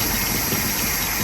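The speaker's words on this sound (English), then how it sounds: "It's idling on its own." A 1960 Cadillac hearse engine idling on its own after being revived, a steady, even rumble with a faint rough knock, close and continuous for the whole moment with no talking.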